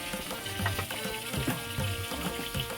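Onion frying in oil for a spicy egg bhurji, a steady close hiss of sizzling with faint bubbling and occasional soft stirring scrapes, continuous and even throughout.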